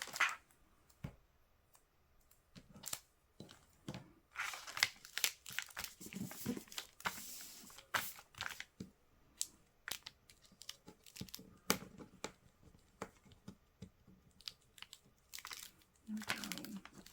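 A plastic bag crinkles and rustles up close while pieces of tape and glue are applied, irregular crackling bursts and soft clicks spread through the stretch, no speech.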